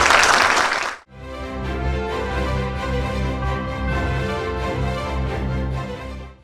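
An audience claps loudly at a lecture to welcome a speaker. The dense, sustained applause fills the room for several seconds after a brief burst of noise.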